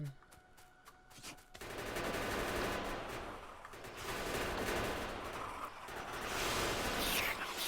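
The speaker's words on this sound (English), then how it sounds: "I guess I gotta shoot too." Gunfire in Factorio, sustained rapid shots crackling continuously for several seconds after a quiet start, with bursts rising and falling in intensity amid other game sounds.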